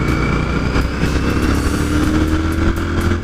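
A Royal Enfield Continental GT 650 twin-cylinder engine pulls steadily under acceleration, a loud, continuous close-up drone rising slightly in pitch, with wind buffeting.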